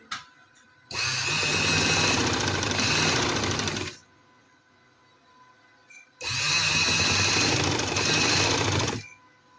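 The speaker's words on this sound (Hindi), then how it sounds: "इस्त्री की तह पर हम ये सिलाई लगाएंगे" A sewing machine stitches lace onto fabric along a pressed fold in two loud, steady bursts of rapid mechanical whirring, each about three seconds long, separated by a quiet pause.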